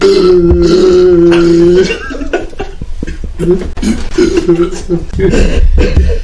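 A loud burp right after a whole bottle is downed, low and drawn out near the start, followed by excited chatter, chuckles and throat noises from several close voices.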